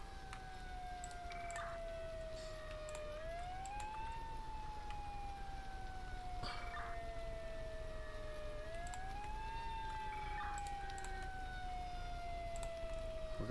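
Fire engine sirens from an Emergency 5 video game with the Beaverfield mod, during a downtown fire, wail in slow rising and falling sweeps that overlap one another, fairly faint and continuous, with no talk.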